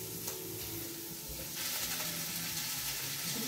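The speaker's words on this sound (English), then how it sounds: "In goes the drumsticks." Steady sizzling of chicken drumsticks browning in a hot pan, a continuous crackling hiss that grows slightly louder partway through, with no voices.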